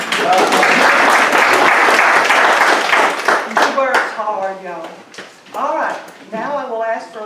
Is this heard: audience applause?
yes